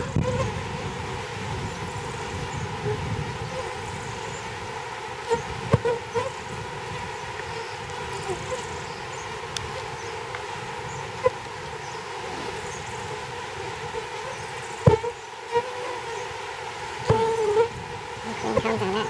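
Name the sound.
honey bees buzzing around a hive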